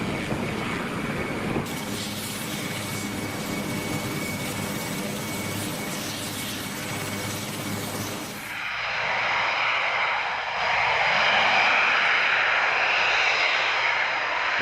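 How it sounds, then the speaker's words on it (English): Puma helicopters arriving to refuel at RAF Coningsby, a loud sustained engine and rotor roar that cuts off abruptly partway through, replaced by a different hissing turbine whine for the rest. "a couple of Pumas just popping in for a refuel"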